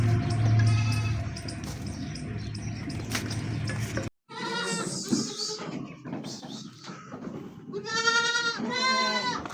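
Goats and kids on a farm bleat repeatedly, loud nasal cries arriving in bursts, some overlapping, over a busy background with a brief drop to silence midway.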